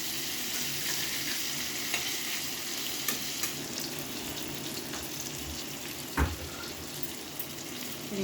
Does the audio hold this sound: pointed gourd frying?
yes